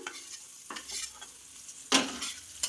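Food fries in a pan with a soft hiss, and a few spatula strokes cut sharply through it, one louder scrape near the end.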